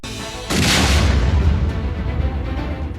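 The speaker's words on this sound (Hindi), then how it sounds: "धमाका जमीन को थर्रा देने वाला है" A single deep boom bursts out suddenly and rumbles on, slowly fading as a low roar that fills the rest of the moment.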